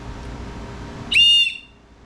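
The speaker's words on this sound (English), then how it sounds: "you've got a whistle to alert someone, and it's really loud." One short, piercing blast from a car emergency kit whistle, very loud and shrill, cutting off sharply after a fraction of a second against a quiet background.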